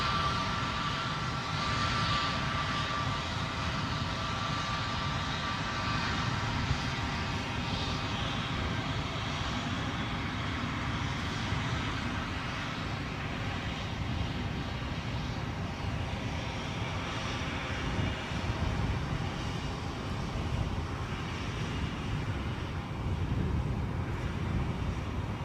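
WestJet airliner taxiing at Edinburgh airport, a continuous moderate jet engine whine and rumble with a faint high tonal hum, steady and unbroken across the whole stretch.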